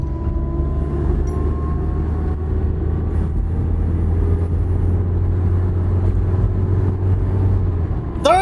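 A Toyota Celica accelerating in second gear on a neighborhood street, its engine a loud, steady droning hum heard from inside the car, with a faint squeak near the end.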